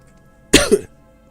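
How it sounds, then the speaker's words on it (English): A single person's cough close by, a sharp burst followed by a second quick hack, about a third of a second in all, alone against quiet room tone. "I'm so sorry about the coughing."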